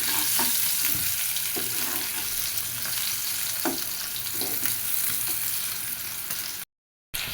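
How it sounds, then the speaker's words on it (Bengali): Potatoes fry in hot oil with a continuous close sizzle, broken by scattered clinks of stirring, until the sound cuts out briefly near the end. "দিয়ে আলুগুলো খুব ভালো করে একটু তেলে ভেজে নেব।"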